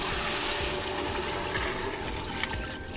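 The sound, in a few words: pouring water into pot of goat trotters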